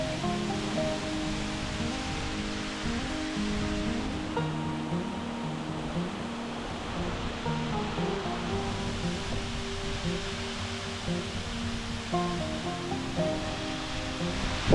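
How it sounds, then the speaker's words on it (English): Steady, fairly soft rush of a hidden waterfall tucked away on Whernside, a continuous broadband splash with no voices. "A secret waterfall tucked away."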